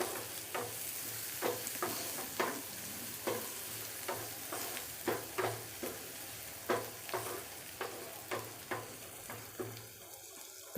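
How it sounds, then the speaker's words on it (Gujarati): Finely chopped onions sizzling in a pan over low gas heat, with steady frying hiss beneath repeated, evenly spaced scraping strokes of a spoon stirring them, close and moderately loud, no voices. "હવે ડુંગળીને બ્રાઉન થવા દઈશું, ત્યાં સુધી એને ફેરવીશું"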